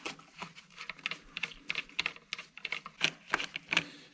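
Screws being loosened from the air filter of a Vespa PX scooter, giving a run of small, close metallic clicks and ticks in irregular bursts with brief pauses, quiet and alone.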